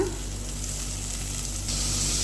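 Onions and green chillies frying in a pan give off a loud, continuous sizzle that holds steady throughout and swells slightly near the end, with no talking.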